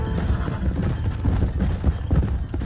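Rhythmic horse hooves clip-clopping on ground in the Red Dead Redemption video game, with a brief whinny; steady, close trotting fills the whole stretch.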